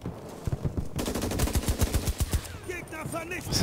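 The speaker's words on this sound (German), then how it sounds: "Das hört sich schon an wie ein LMG." Bursts of light machine gun fire in the video game Battlefield 2042, rapid rhythmic shots for about two seconds, fairly close and loud, followed by quieter whistling game effects.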